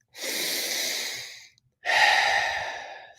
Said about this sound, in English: Keep breathing into our last 5 breaths.